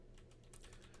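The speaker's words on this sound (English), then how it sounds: "I have a stealth keyboard." Quiet rapid typing on a stealth computer keyboard, a fast run of soft clicking keystrokes heard close and alone.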